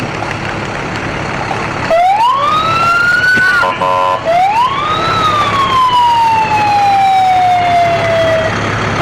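A loud Alburg Volunteer Fire Department fire truck siren winds up, drops briefly, then rises again and slowly fades down in a long wail, with parade crowd noise underneath.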